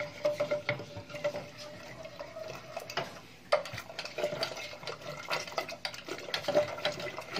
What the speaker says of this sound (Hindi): अब इस पालक को और दाल को ऐसी मथनी से मिक्स करना है।